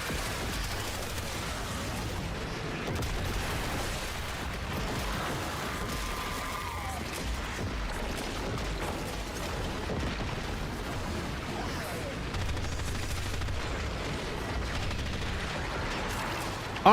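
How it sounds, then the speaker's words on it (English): Gunfire in the video game Warframe rattles on almost continuously, a dense, loud wash of rapid shots and mechanical clatter with faint booms underneath. "Are my shots even connecting?"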